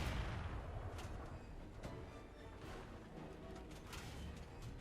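75mm tank cannon in War Thunder arcade battle, with dense continuous rumbling battle noise and a few sharp cracks rather than a single isolated blast, loud and busy throughout.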